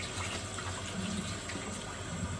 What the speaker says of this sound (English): and rinse the bowl, and then everything's ready for next time you need to clean it.